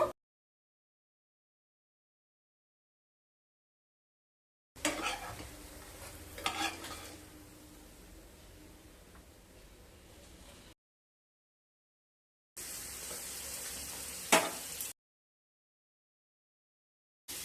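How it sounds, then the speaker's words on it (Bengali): Gram-flour-coated besan toast fries in a pan, giving two separate stretches of steady, close sizzling with a few louder crackles, broken by silence. "দুটো সাইড খুব ভালোভাবে ভাজা হয়ে গেছে, এবার তুলে নেব।"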